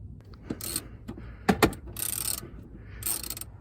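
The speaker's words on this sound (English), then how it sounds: "take a socket with an extension and just loosen them up" A ratchet socket on an extension works loose the 14mm bolts of a car's power seat. Quiet, close-up clicking ratchet strokes come in short bursts, and a couple of sharper metallic knocks sit in the middle.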